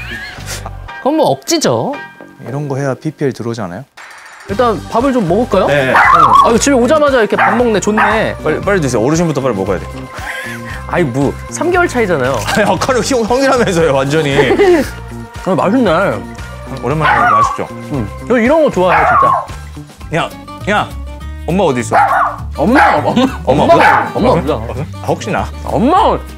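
A dog barks and whimpers repeatedly in yips and bow-wows at close range through a casual indoor conversation, with people talking over it almost continuously.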